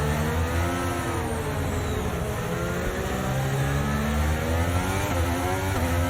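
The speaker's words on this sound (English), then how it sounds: "Engine sounds good." A racing car engine in the F1 23 video game at the Las Vegas track whines steadily at high revs, pitch rising and dipping as it shifts, loud and continuous with no voices.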